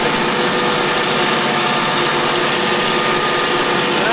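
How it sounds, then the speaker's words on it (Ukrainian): A Mitsubishi MT-200 Japanese mini tractor, freshly rebuilt engine, runs at a steady idle with an even mechanical drone and light rattle, close and unbroken. "Трактор Mitsubishi MT-200."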